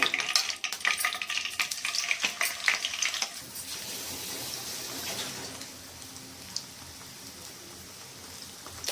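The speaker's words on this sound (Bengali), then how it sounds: "বাকিগুলো এভাবে ভেজে নেবো" Oil sizzles and crackles steadily while paneer pieces fry, with clattering stirring for the first few seconds before the sizzle settles into a softer, even hiss.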